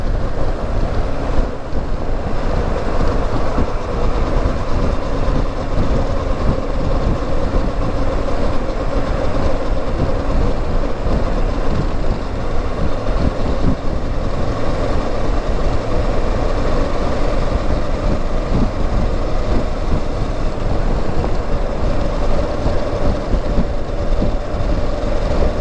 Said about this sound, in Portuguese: Deve estar um barulho de vento aí, porque a viseira está com o dedinho aberto.